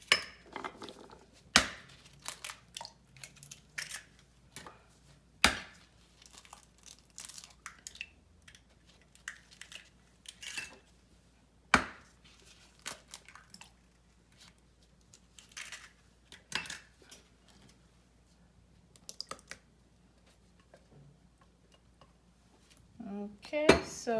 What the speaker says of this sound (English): I have 4 eggs, so I'm just gonna crack it in a separate bowl